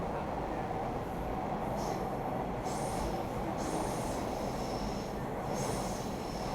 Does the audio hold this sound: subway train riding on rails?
yes